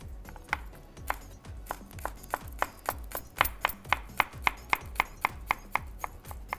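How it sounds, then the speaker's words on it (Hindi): Steady, rapid knife chops of garlic into thin slices on a cutting board, crisp and close, speeding up into an even rhythm of thin slicing strokes. "गार्लिक के, लहसुन के थिन स्लाइसेस आपने काट दिए इस तरह से"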